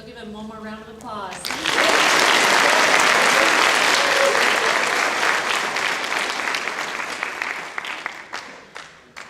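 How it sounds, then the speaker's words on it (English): A brief spoken line at a high school scholarship night gives way to a swell of audience applause that builds quickly, holds strong, then gradually thins out and fades. "give him one more round of applause"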